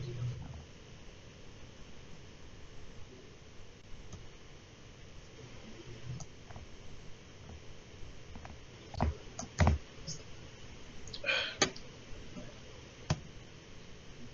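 Someone types on a soft computer keyboard that will not lie flat. Scattered keystrokes and a few brief clicking bursts sit over a low steady background, with faint voices in places.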